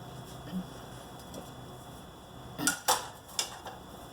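Plastic food processor parts are set up before shredding zucchini. A few faint knocks come first, then a cluster of close clicks and clacks as the pieces fit together in a quiet room.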